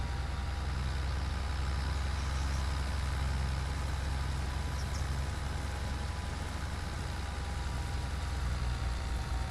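A tractor engine runs steadily throughout, a continuous low heavy drone at constant loudness with no talk, like a machine idling or working nearby.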